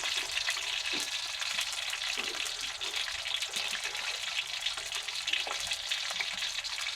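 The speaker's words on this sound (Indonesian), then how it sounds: "Kita goreng." Candlenut and garlic fry in a pan as the base for sambal, with a close, continuous crackling sizzle and scattered pops that stay steady throughout.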